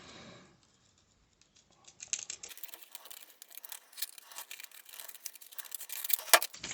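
Scissors or a blade cut along a drawn line on a template for chassis cross bars, giving quiet snipping and rustling that swells into a busier, louder run of crisp cuts toward the end, with no talking.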